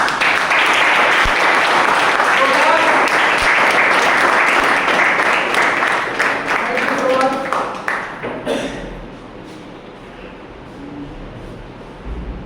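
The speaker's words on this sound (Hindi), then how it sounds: "हो जाए अपने स्वास्थ्य के लिए एक शानदार ताली।" Loud, sustained applause from an audience at a health awareness seminar, a dense wash of clapping that fades out after about eight seconds, leaving quieter room noise with a few scattered claps.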